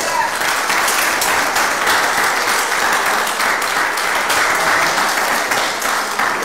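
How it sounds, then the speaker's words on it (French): Sustained applause from a crowded audience at a French-language talk, steady and loud clapping filling the whole stretch without pause. "est-ce que vous pouvez commencer par applaudir pour tous ceux qui sont là"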